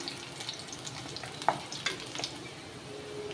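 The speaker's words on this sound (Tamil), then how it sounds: "பூண்டை நல்லா வதக்கி விட்டுக்கோங்க பூண்டு நல்ல எண்ணெயில் வதக்கும் போது நல்ல மனம் வரும்" Garlic sautés in oil in a pan for a chicken fry, giving a faint, quiet sizzle with a few light stirring clicks and scrapes, close by and without talk.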